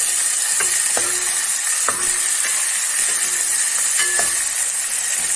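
Garlic and green chillies fry in oil in a pan, giving a loud, steady close-up sizzle with occasional clicks of stirring utensils and no voices.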